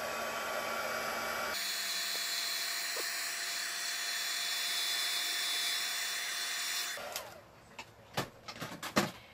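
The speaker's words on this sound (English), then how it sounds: "So we're going to dry it. And I'm drying it on low." A heat drying tool whirs steadily on its low setting over a sticky stamped card for several seconds, then switches off and leaves soft handling clicks and taps.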